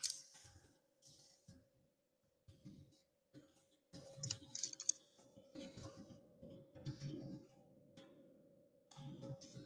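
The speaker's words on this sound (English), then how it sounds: "I'm having a hard time typing." Clicking and tapping on a computer keyboard during design software work, soft irregular keystrokes over a steady low hum, with quiet pauses between bursts.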